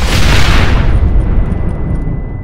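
Charges planted at a gate in Red Dead Redemption go off in one loud, close, deep boom that fills the air and rumbles away over a couple of seconds.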